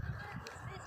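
A bird known locally as hattimatim, which lays its eggs in open fields, gives a short, faint, honking call, heard alone for about a second.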